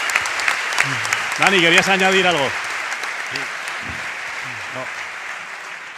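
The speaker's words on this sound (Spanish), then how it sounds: "Un aplauso hoy para todos ellos." Applause from a live audience at a special sports radio broadcast in Bilbao swells and fades, while someone speaks over it and then carries on talking.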